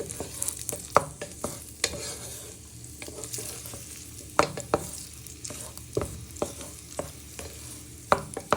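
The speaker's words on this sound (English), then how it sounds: "So we're just frying our chorizo for a minute or two in the olive oil" Chorizo sizzling in olive oil in a pan with shallots and garlic, a continuous fry punctuated by frequent sharp clacks of a utensil stirring against the pan, no voices.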